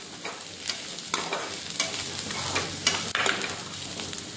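Onion and green chillies fry in a pan for egg curry, with a steady sizzle and repeated scraping stir strokes throughout, close and fairly loud, no talk.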